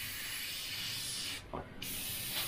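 Airbrush spraying paint at low pressure gives a continuous close airy hiss, with a short break in the flow partway through before the spray resumes.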